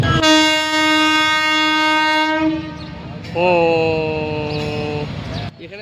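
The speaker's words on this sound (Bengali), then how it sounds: "ট্রেন আসছে" A train horn blares long and loud nearby at a railway level crossing beside Samsi station, then sounds again at a slightly different pitch, with rumbling rail noise underneath.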